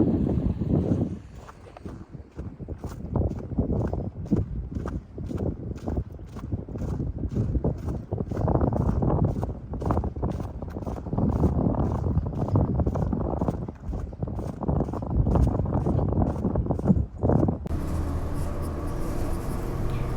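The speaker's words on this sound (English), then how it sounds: "Can you hear the sound of the wind? It is so loud." Strong winter wind in a Canadian city buffets the microphone in a continuous roar with repeated gusty thumps, alongside the low hum of a moving bus.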